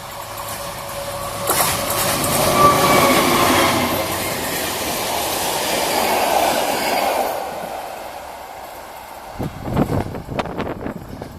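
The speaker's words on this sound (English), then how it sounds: "this train was not stopping in Pavlov" A train passes along a railway line through the Czech countryside near Pavlov at a manually operated level crossing. The rumble swells as it goes by, then fades, ending in a few sharp clattering wheel knocks.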